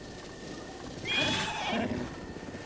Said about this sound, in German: Ich bin hier immer noch beim Wildpferde.